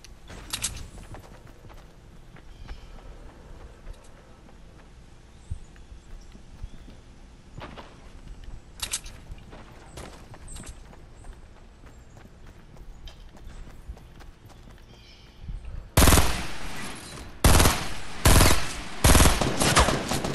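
Gunshots crack out in Fortnite, a few scattered distant pops early on, then a loud cluster of rapid shots near the end over a quiet game background.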